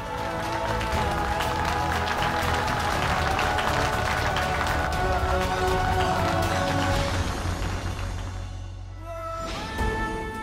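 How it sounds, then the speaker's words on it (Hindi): Loud, sustained audience applause welcoming someone on stage, with dense clapping over background music for about eight seconds, then dropping off as the music carries on. "जोरदार तालियों से स्वागत करें।"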